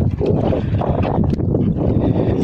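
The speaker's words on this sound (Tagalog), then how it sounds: "malakas pa yung hangin ngayon dito, parang uulan" Loud, blustery wind roars steadily against the microphone, a low rumbling buffet with no talking, under a darkening sky before rain in Aklan, Philippines.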